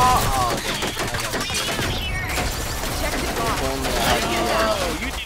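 Rapid SMG gunfire from the shooter game Rogue Company crackles in dense bursts, mixed with other combat effects and a player's voice over it throughout.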